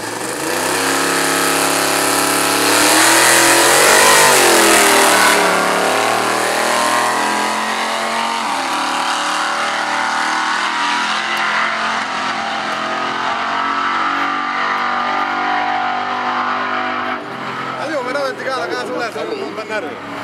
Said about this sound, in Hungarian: Imádom az El Camino hangját, gyönyörűen szól a V8.